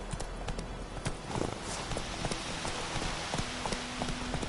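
Roach, the horse in The Witcher 3 video game, clip-clopping at a steady, quick rhythm over a continuous ambient bed, hoofbeats fairly close and evenly spaced throughout.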